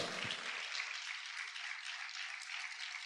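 A church congregation claps loudly and steadily during a Spanish-language sermon, a dense, sustained wall of applause with no voices over it.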